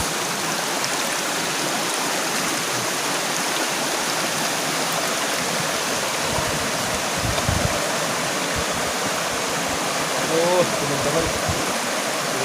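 Steady broadband rush of a river flowing along the Amazon, close and continuous for the whole stretch, with faint murmurs and a brief higher whistle-like sound near the end.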